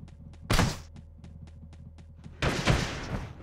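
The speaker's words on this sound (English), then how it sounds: "That grenade launcher does something." Two loud, booming grenade launcher blasts in the top-down shooter Teleglitch, one early and one near the end, separated by a steady run of regular clicking ticks over a low hum.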